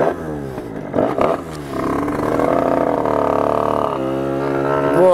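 A 75cc MVT Iron Max moped engine with a sticking throttle revs hard, rising and falling in pitch before holding a loud, sustained buzzing roar close by.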